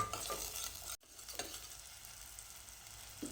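Ground roasted masala paste sautéing in hot oil in a pan for chicken kat-vada, with a steady close sizzle, stirring scrapes and a brief spoon knock, with no talking.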